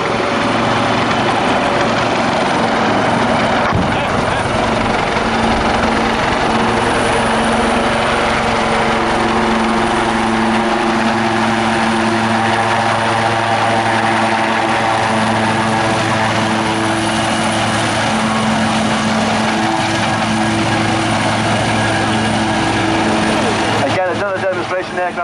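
A Wildcat military helicopter displaying at the Yeovilton Air Day air show, its rotor and engine roar loud and continuous throughout, with a steady throbbing drone and a commentator's voice over the public address.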